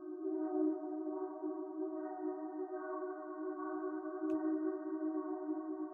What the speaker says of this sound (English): This is again just a very simple sound that's got a lot of movement on it with a droning chord.